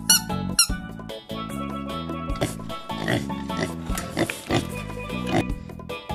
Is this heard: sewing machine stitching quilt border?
no